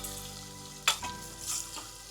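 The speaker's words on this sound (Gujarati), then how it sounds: "થોડી વાર આપણે આવી રીતના 2 મિનિટ આપણે તેલમાં સાતળવા દેવાના છે।" Spiced potato curry cooking in hot oil gives a soft, steady sizzle, with a sharp clatter of stirring near the middle and a few fainter scrapes after it, close up with no voices.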